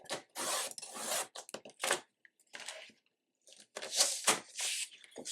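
Cardstock is trimmed in a series of close, dry scraping strokes and rasps, with short gaps and a longer silent pause in the middle.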